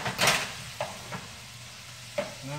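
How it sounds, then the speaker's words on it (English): Ground meat sizzles and browns in a hot pan for a taco soup, a steady frying hiss with a burst of stirring near the start and a few soft scraping knocks, close, no talking. "now that the ground meat is browning up nicely"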